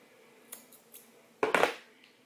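Scissors snip through a hair extension weft folded three times: a couple of faint light clicks, then one louder crisp crunching cut, close and alone.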